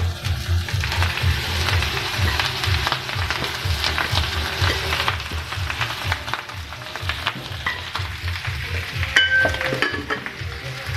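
Rice and hotdog frying together in a pan for a home breakfast, a steady close sizzle running throughout with occasional spatula scrapes and light clinks of the utensil against the pan.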